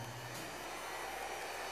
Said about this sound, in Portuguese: eu vou dar uma secadinha com o secador